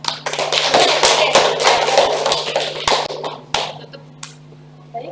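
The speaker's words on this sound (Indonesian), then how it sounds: "Tepuk tangan dulu dong." A small group in a classroom training session claps for several seconds, with fairly close, uneven hand claps and a steady low hum beneath, before the applause tapers to a few stray claps.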